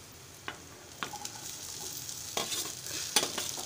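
Tempering spices sizzle in hot oil in a pan, a steady faint crackle broken by a few sharp spoon taps and pops against the metal, close by with no voices.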